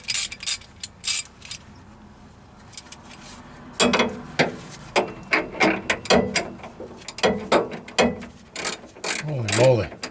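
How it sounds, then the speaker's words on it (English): Hand ratchet clicking in short bursts while loosening bolts on the front shock of a VW Bus, close and fairly loud, with some metallic creaks and a brief vocal sound near the end. "I'll just stick with a ratchet."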